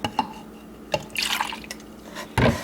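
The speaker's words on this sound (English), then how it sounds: "So let's pour a little bit of vinegar in there." Vinegar is poured into a measuring cup for a science kit volcano, heard as a few close splashes and drips followed by a short gurgling pour and a final splash.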